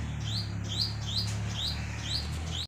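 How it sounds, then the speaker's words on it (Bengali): A mother bird chirps near its nest in a village home, repeated short rising tweets at a steady rhythm, fairly close and clear over a low constant hum, until the sound cuts off abruptly. "ওই যে ওর মা কিচির মিচির করতেছে"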